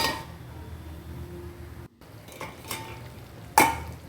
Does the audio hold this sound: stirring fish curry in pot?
yes